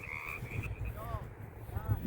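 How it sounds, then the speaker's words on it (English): Frogs croak in short, warbling bursts, a few separate calls rising over a low rumbling background, moderately close. "There's a bunch of frogs over there."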